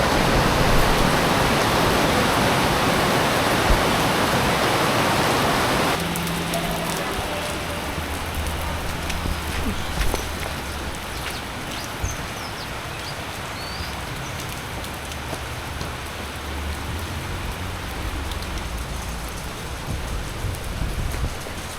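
Heavy rain pours during the rainy season in Phnom Penh, Cambodia, a dense steady hiss that is loudest at first, then eases slightly into a continuous patter with scattered drips; no voices.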